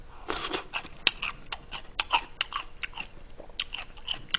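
Crunchy deep-fried chicken gizzards being bitten and chewed close to the mic, a run of sharp crisp crunches in an uneven rhythm, with no talk over them.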